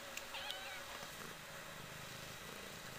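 A cat meows indoors beside an old, yellowed computer, the faint meows set against steady broadband background noise, with no clear talk.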